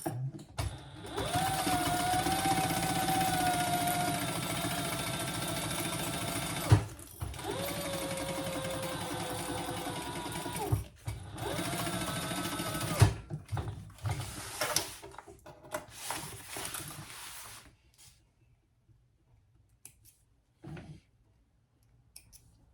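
A sewing machine runs a 1/8-inch basting stitch on a tote handbag, long close bursts of rapid whirring broken by short pauses and clicks, ending in scattered faint handling sounds and quiet.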